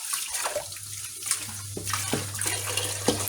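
Tap water running steadily into a sink while leeks are washed by hand, a continuous splashing stream with irregular sloshing and knocking sounds as the vegetables are handled, close and fairly loud.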